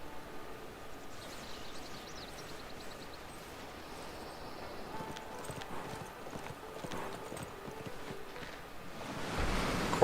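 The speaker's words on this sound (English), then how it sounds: "Of course you have horses." Horse hooves clip-clopping steadily in a BioShock video game scene, a quiet, even walking rhythm over a soft hiss of background ambience, growing slightly louder near the end.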